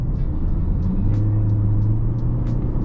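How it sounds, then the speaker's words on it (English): Steady droning engine of a 2024 Toyota C-HR 1.8 hybrid with eCVT while driving, a constant low hum and rumble close inside the cabin, with no one talking. "the engine makes a lot of noise."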